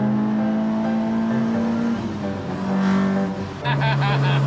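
A damaged Mk1 Ford Escort driving on the road, its engine droning loud and close with steady tonal hum, dipping and shifting pitch as it changes gear and revs.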